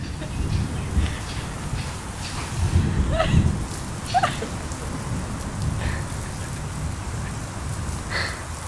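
Steady rain falls with low rumbling thunder swelling and fading in waves, the downpour continuous and fairly loud throughout, with faint bird calls above it and no voices.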